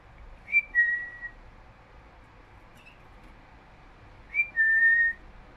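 A pet bird in its cage whistles two brief pairs of notes several seconds apart, the last note held longer, with only faint room noise between.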